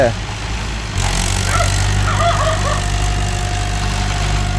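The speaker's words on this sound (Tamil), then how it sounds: "engine sound" Mahindra 575 DI tractor engine with a welded, leaking silencer running steadily after engine work, a loud continuous idling rumble that kicks in after a quieter start, with voices talking over it.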